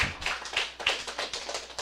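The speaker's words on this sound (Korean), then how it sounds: "박수 좀 한번 해줘야 되고." A few people clap their hands in a small room, about eight irregular, fairly soft claps in quick succession.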